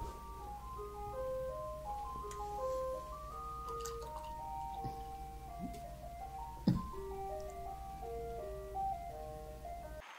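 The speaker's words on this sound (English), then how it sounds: "There's an ice cream truck." An ice cream truck's jingle, a tinny repeating electronic melody playing steadily over a low engine rumble, heard at moderate distance with a faint clunk partway through.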